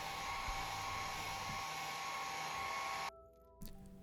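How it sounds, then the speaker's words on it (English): Steady close blowing roar of a hair dryer drying paint on a fishing lure, running continuously before cutting off abruptly, followed by a brief handling knock. "I'll hit the colors with the hair dryer to ensure they're dry"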